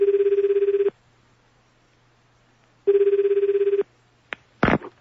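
A telephone rings in two loud, steady trilling bursts with a silent gap between them, followed by brief clicks and handling noise as the call is picked up.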